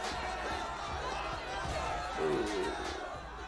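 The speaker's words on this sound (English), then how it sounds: "A massive crowd is furiously attacking your soldiers without any regard for their own safety." Battle crowd from the video game The Life and Suffering of Sir Brante, a massive mob furiously attacking soldiers in a front yard: dense, continuous roar of voices and shouting with scattered impacts, steady and fairly loud throughout.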